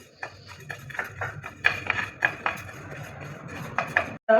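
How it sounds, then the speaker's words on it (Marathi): Sesame seeds dry-roasting in a pan over low heat, giving a steady run of light rattling and scraping taps from stirring over a soft continuous background hiss, ending in a brief cut. "सो ही पण आता लालसर भाजून घेत आहे मी"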